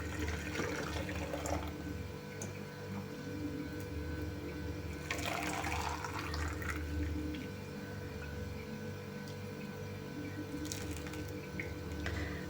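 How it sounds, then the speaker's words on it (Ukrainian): Boiling marinade is poured over tomatoes packed in a jar with carrot and onion, giving a continuous gurgling, splashing liquid flow for about twelve seconds, close and steady with no talking. "Киплячим маринадом заливаємо помідори."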